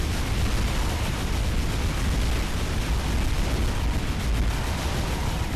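Inferno flame tower in Defense Grid 2 burning enemies, a dense, continuous roaring rumble of fire and crackling bursts that stays loud and unbroken throughout, with no voices over it.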